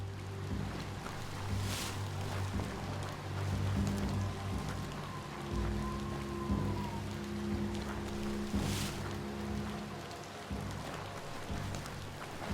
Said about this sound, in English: Hope you enjoy the rain